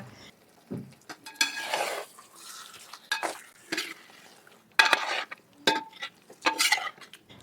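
Stirring chicken into masala in a pot: spoon scrapes and clinks against metal over a steady sizzle of frying, close and moderately loud, in irregular bursts.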